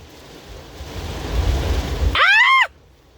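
Heavy rain roars steadily during a violent thunderstorm with 70 mph wind gusts in Castroville, Texas, building in loudness before a sharp, brief high-pitched shriek cuts in and the downpour drops off abruptly.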